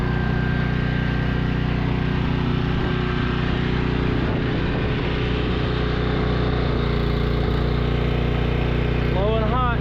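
A $100 Craftsman portable generator runs steadily under an electrical load of about 2,000 watts, a loud continuous engine drone close by with people talking over it.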